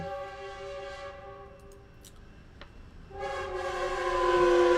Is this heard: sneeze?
no